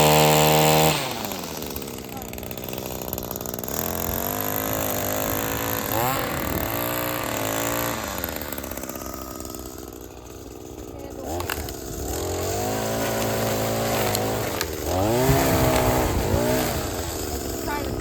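Gas-powered Echo string trimmer engine running and revving near the mic, its pitch rising and falling across repeated throttle bursts, with voices talking over it.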